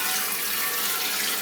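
A tap runs steadily into a sink, a brief, constant splashing rush of water with no voices.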